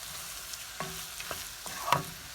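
Egg bhurji at a Mumbai street food stall is stirred and scraped around a pan's sides and corners, a few distinct spatula scrapes and clinks over a faint, low sizzle, with no talking.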